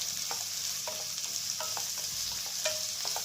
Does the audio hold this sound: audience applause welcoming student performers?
no